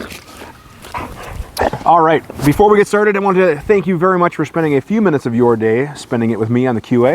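A dog playing with toys, heard as yips, whimpers and barks running under a man's steady speech close to the microphone.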